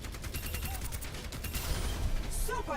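Gunfire in the video game Overwatch 2 as a training bot is shot, with rapid repeated shots and mechanical clicks forming a busy rattling stream and a faint voice underneath.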